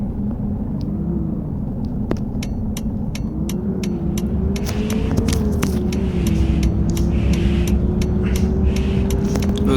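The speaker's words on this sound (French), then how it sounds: "Il y a un bus qui arrive fort là." A bus rumbles loudly nearby as it arrives, a heavy low engine drone rising slightly in pitch, with scattered sharp clicks and rattles over the steady roar.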